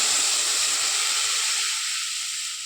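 Water poured into a hot pan of fried vegetables and tamarind sets off a loud, steady steam hiss and sizzle that slowly fades over a few seconds.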